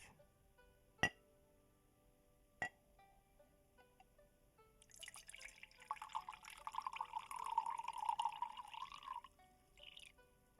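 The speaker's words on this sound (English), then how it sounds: "I'll pour you a cup." Tea poured into a cup during a quiet ASMR session: two sharp clinks of porcelain, then a close, gentle stream of liquid filling the cup for several seconds before trailing off.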